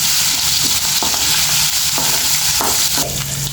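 Ginger paste fries and is stirred in a pan for potato rice, a steady close sizzle with a few soft scraping stirs of the spoon throughout, no voices.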